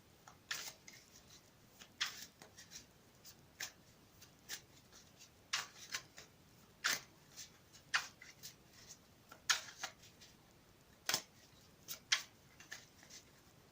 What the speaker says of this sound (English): I'm going to shuffle them again on camera.